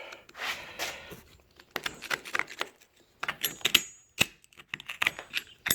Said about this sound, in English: Scrape all these crevices all up in here.